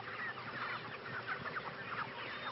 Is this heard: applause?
no